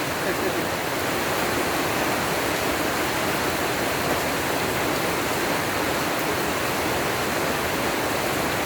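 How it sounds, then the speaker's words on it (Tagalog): Heavy rain pours down steadily and loudly in a dense, unbroken hiss that fills the whole stretch with no pauses or voices. "kitang kita nyo ang ating paliligo sa ulan"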